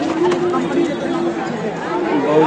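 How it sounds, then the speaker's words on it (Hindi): A large crowd chatters at an evening light and sound show in Birsa Munda Jail Park on Adiwasi Diwas, a steady close babble of many voices with a tonal hum running underneath. "बहुत ज़्यादा भीड़ है इधर नहीं निकल कर सकते"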